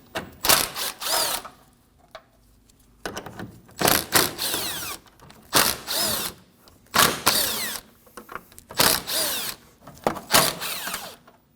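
Power tool spinning out 10mm grille bolts on a 2016-2022 Honda Pilot during radiator replacement, about eight loud whirring bursts in regular succession with quiet pauses between, no talk.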